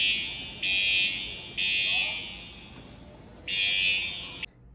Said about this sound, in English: we had the fire alarm go off on us, which was extremely annoying at the airport